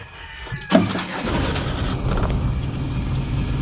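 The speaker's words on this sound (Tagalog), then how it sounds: "Kunin ang susi. Makikita ang susian sa bandang kanan sa likod ng manubela. At i-on ang kotse." A car engine is started with the key, with a sharp click and crank near 0.7 seconds. It catches and settles into a steady, close idle that fills the rest of the clip, with no talking.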